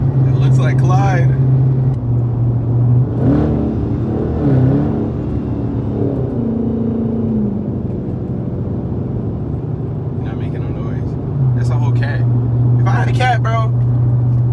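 Low, steady rumble of an SRT car engine at a street car meet in Atlanta, shifting in pitch with occasional throttle rises, heard under close conversation and background chatter.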